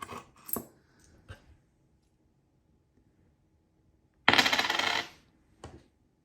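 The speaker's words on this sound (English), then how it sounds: "And I got some Japanese coins." Japanese coins drop and clink against a hard surface: a few sharp, close clinks, then a longer jangling burst as a handful lands together, and one last light clink, with no talking.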